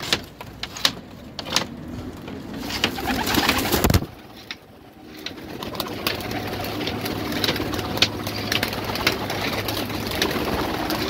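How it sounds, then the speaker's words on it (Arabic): Pigeons in a loft coo softly amid constant fluttering and rustling, with a brief wooden knock partway through, close and continuous. "هنتفرج بقى على الحمام ده"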